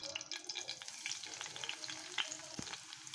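A single chili fried in hot oil while tempering dal: a steady, fairly quiet sizzle with a few small crackles and pops, and no voices.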